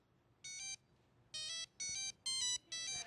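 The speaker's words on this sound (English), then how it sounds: "this phone's limited because it's a monophonic ringer. It can only do one note at a time" A Motorola cell phone plays the Pink Panther theme as a monophonic ringtone: one bright electronic note at a time, a short tone followed by four more in a bouncy rhythm, close and clear against a quiet room.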